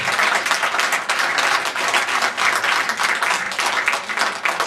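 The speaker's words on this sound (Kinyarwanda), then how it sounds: "ndabasaba ko mwakomera amashyi cyane" A crowd at a Rwandan community gathering in France claps loudly and steadily, dense continuous applause filling the room throughout.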